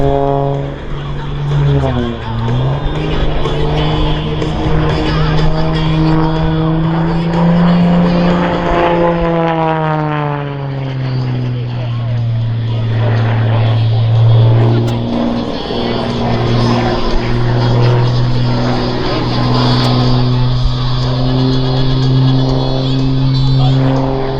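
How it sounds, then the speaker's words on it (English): An aerobatic propeller airplane flies freestyle airshow maneuvers through hammerheads and a flat spin, its engine droning loudly with rising and falling pitch sweeps, while a commentator talks over it throughout. "the airplane as it goes into a flat spin and then recovers"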